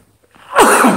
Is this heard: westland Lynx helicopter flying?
no